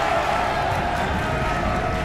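Crowd noise fills a high school basketball gym during a USN versus Hillsboro game, a steady loud roar of cheering voices with some talk mixed in, continuous for the whole stretch.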